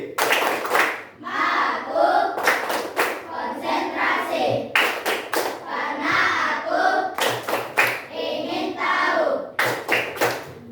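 A class performs a rhythmic clapping routine, tepuk konsentrasi: crisp group claps in repeated short patterns alternating with chanted voices, loud and close, cycling several times.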